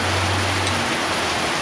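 Heavy rain falling outside, a dense steady hiss of downpour with a low hum underneath throughout.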